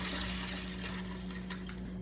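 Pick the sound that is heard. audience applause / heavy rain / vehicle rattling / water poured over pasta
water poured over pasta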